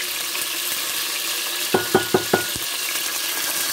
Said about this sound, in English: The chicken is frying now.